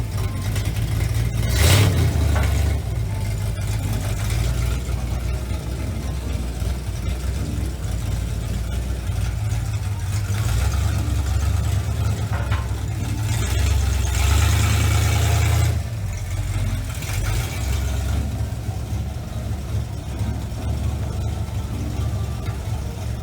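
A Ford Mustang Mach 1's non-original engine runs and idles with a deep, uneven rumble, occasionally rising as it revs slightly, continuous throughout.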